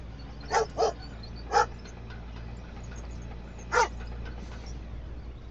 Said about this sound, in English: she's actually barking at somebody running across the street